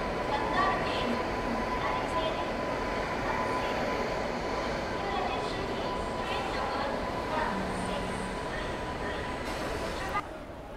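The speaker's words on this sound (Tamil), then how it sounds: "திருவனந்தபுரம் டு மும்பை சிஎஸ்டிஎம் வரைக்கும் போகிற வீக்லி எக்ஸ்பிரஸ்ங்க பிளாட்ஃபார்ம் 3ல அரைவல் ஆகிட்டு இருக்கு" Weekly Thiruvananthapuram to Mumbai CSMT express train arriving at platform 3 of Coimbatore Junction, a continuous loud rumble of rolling wagons with a faint steady tone, under station chatter and bustle.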